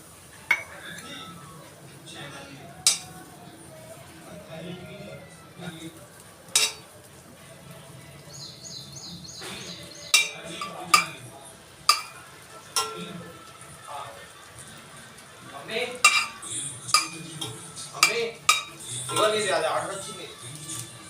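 Cheese is added to a hot pan and stirred, with scattered metallic scrapes and clinks of a spoon against the pan over a faint sizzle, while a voice speaks intermittently.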